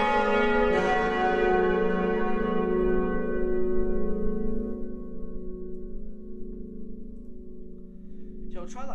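Italian church bells ringing in the Roblox game, a loud bright peal whose long harmonic ring slowly decays over several seconds, with a brief new strike near the end.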